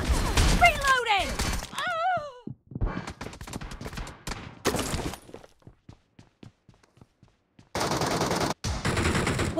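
Gunfire in the battle-royale game BGMI during a squad match, with bursts of rapid automatic shots and single cracks scattered across the clip, loud and close, mixed with other game effects and voices.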